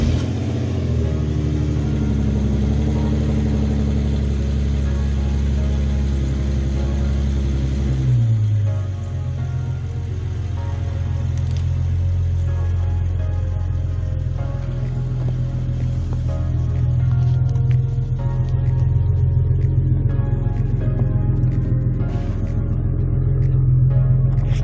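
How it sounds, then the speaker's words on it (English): AWD Infiniti Q50 with newly installed lowering springs driving around the block, a loud steady in-cabin engine and road rumble with a shift in engine note partway through, then rising revs as it accelerates. "took the car for a little drive around the block"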